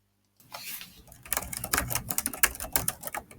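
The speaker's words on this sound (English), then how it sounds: "Now your machine will be able to do the score and then cut." A Cricut cutting machine scores and cuts a custom box, giving a dense run of rapid clicking, ticking mechanical strokes and whirring after a silent start, close and steady with no talk.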